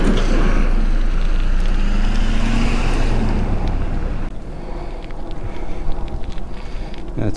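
An ANCHEER 48-volt, 499 Wh, 27.5-inch mountain e-bike ridden on full throttle, with a loud steady whir of motor and rushing wind that drops and changes partway through.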